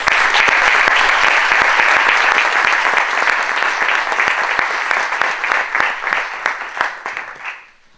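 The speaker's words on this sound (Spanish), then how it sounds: "vamos a darle un fuerte aplauso" Sustained audience applause at an awards ceremony for malaria interpretation centre prizes, dense and steady clapping from a crowd that thins out and fades to silence near the end.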